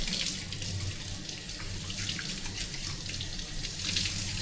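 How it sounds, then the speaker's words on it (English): Tap water runs steadily into a sink while hands are washed under the stream in a home kitchen, a close, continuous splashing hiss with no talk. "We're gonna get our hands a wash."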